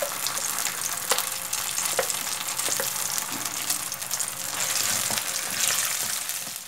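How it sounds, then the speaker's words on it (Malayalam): Ground spice paste fries in oil for a shahi bhindi masala, sending up a continuous close sizzle with scattered stirring taps and clicks. "ഇപ്പോൾ നമ്മുടെ പേസ്റ്റ് നന്നായിട്ട് എണ്ണയിൽ നമ്മൾ ഫ്രൈ ചെയ്തെടുത്തിട്ടുണ്ട്."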